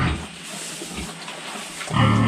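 A pig on a farm in rural Occidental Mindoro, Philippines, grunts and squeals close by in short bursts, louder toward the end of the brief moment, with no talk over it.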